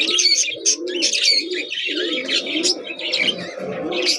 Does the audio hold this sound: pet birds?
yes